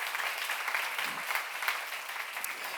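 A church seminar audience claps steadily, a dense wash of applause that holds at an even level from start to finish with no talking.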